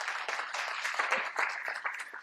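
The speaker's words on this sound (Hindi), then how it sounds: "एक जोरदार ताली मैं चाहूंगा सर के लिए" An audience at a motivational talk gives brief, dense applause, a short burst of many hands clapping at moderate distance.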